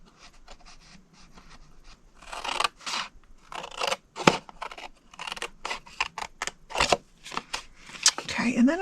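Scissors snip through cardstock along a score line in a rapid run of crisp, close cuts that grow louder and denser, while a person talks over them.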